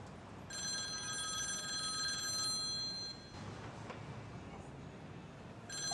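A telephone rings in a repeating electronic trill at moderate volume, two bursts separated by a short pause, in a quiet indoor scene.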